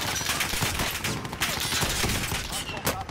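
Rapid bursts of gunfire from the shooter game Warzone, a dense, continuous crackle of shots filling the whole moment at steady loudness.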